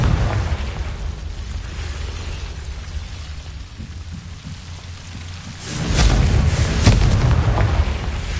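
Confringo fire spell blasts in the video game Hogwarts Legacy, a sustained rumbling roar that swells into heavier booming crackles over the last few seconds.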